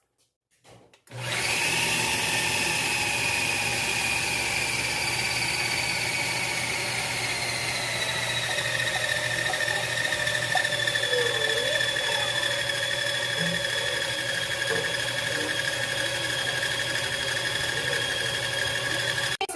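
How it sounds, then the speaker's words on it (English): A food processor whirs loud and steady for nearly twenty seconds, chopping dried chives with sour cream and onion cracker dough ingredients, starting abruptly after a short quiet moment and running without pause or talk. "we're going to put our lid on and we're going to process this"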